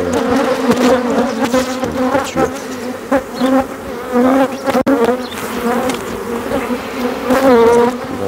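A dense, close swarm of honeybees buzzing continuously around an open hive, loud and wavering as bees move around nearby.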